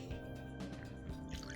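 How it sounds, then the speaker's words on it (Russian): Primer pours into a paint tray already holding some paint, a soft liquid trickle and drip over a faint steady hum, with no talking. "Заливаю туда же грунтовку."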